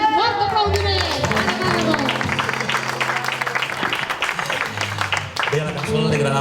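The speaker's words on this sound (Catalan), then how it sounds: "Fort aplaudiment!" Applause for performers on stage at a Catalan tribute concert, a dense wash of clapping from a live audience that runs the whole time, mixed with voices and tonal sounds from the hall.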